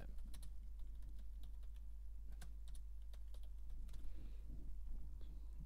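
Someone types a title into a PowerPoint slide on a computer keyboard: soft, steady key clicks, faint and close, over a low constant hum.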